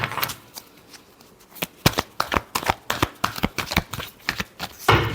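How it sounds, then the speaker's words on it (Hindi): Tarot cards being shuffled for a love reading, a run of crisp riffling snaps and flutters in irregular bursts, close and fairly loud, with no voices. "Last shuffle."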